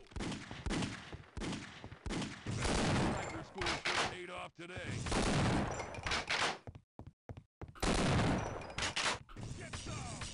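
Gunfire in the video game Half-Life: Opposing Force, dense bursts of shots crackling almost continuously over about ten seconds with brief gaps, loud and close, mixed with game noise.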